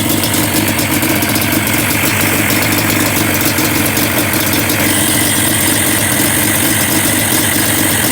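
A rebuilt 2005 Yamaha Banshee special edition two-stroke twin-cylinder engine idles close by, a loud, steady, rapid buzzing putter with no letup, running on both cylinders.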